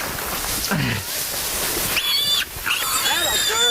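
A wild hog sow of about 250 pounds squeals during a hunt, several shrill rising cries over rustling and hunters calling out nearby.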